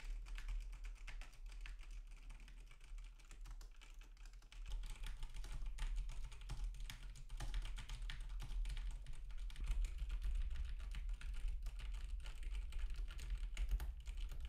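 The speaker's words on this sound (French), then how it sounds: "un test de frappe au clavier permet de tester la résistance au bruit hors axe du microphone" Rapid typing on a computer keyboard, a steady stream of soft clicks and taps, fairly quiet and close, with no talking.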